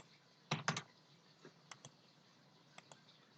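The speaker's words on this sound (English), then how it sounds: "If I type something in," Typing on a computer keyboard while working in Excel: a few sharp clustered key clicks near the start, then sparse single taps spaced out, close and fairly quiet.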